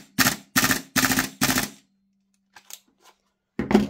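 A Tokyo Marui MWS airsoft rifle running on a small charge of green gas fires four sharp, evenly spaced shots close by, followed by faint mechanical clicks and one more shot.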